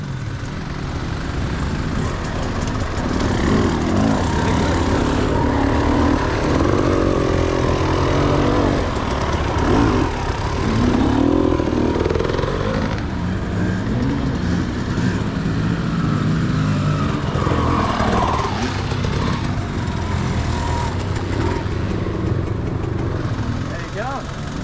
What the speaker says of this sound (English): Wait until the motorbikes go.